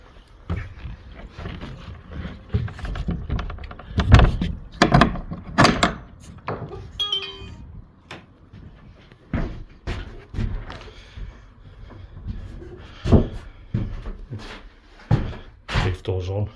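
Wooden shed doors on a bespoke garden outbuilding are swung open and shut, giving several sharp knocks and bangs at irregular intervals, with a voice talking now and then between them.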